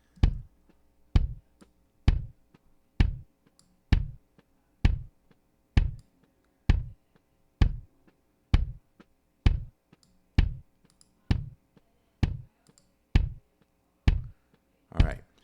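A kick drum shaped with EQ for an accentuated beater click thumps in a steady, evenly spaced pattern of about sixteen hits, with a snare drum faintly bleeding in behind it.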